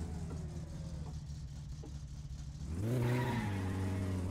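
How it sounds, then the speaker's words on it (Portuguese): In the My Summer Car video game, a car skids and drifts, its engine humming low before a sharp rise into a revving, squealing slide that holds on loudly to the end. "O carro tá fazendo drift, mano."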